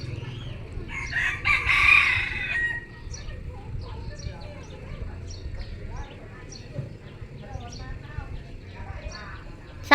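A rooster crows in the Thai countryside, one drawn-out call near the start standing out over steady background noise, with lighter bird chirps and people talking faintly behind.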